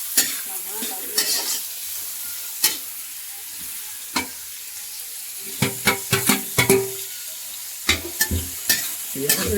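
Onions and green chillies sizzle in a hot pan at home, with a soft continuous hiss punctuated by repeated sharp scraping and clattering strokes of a spoon stirring, some in quick clusters.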